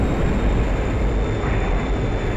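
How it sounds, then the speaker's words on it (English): A helicopter flies in the DCS World combat flight simulator, its engine and rotor noise a loud, steady, dense drone with a faint high whine running throughout. "I'm a very peaceful helicopter."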